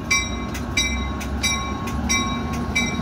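A diesel-hauled double-decker local train rolls into Prospect Heights station, its rumble steady and close while bright bell-like rings repeat in a regular rhythm above it.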